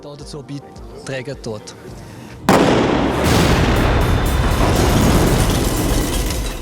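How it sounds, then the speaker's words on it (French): A staged building explosion opening a rescue demonstration: after a few seconds of talk, a sudden loud blast bursts in and rolls on as a dense, roaring rumble with crackling debris that fades only slightly. "La démonstration commence par une explosion, conséquence probable d'un acte terroriste."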